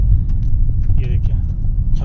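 A Tata Altroz car drives through hills with a low, steady road rumble and engine drone inside the cabin, while someone talks over it.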